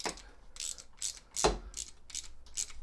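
Hex key turning the brake adjustment screw on a Xiaomi e-scooter, a series of quiet, close ratcheting clicks in an uneven rhythm, roughly two per second.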